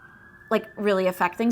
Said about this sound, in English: sorry for the sirens going by